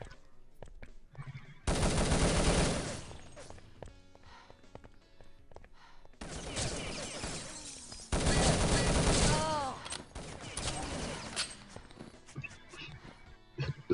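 Video game gunfire in a 2vs2 Urban Zone tournament match: loud bursts of rapid automatic shots come in long volleys with short pauses between them, and other game sounds and commentary run beneath.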